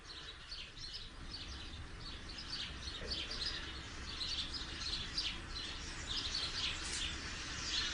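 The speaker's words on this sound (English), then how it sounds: "Birds." Many birds chirping and calling together in a steady, busy chorus, with a low rumble of background noise underneath throughout.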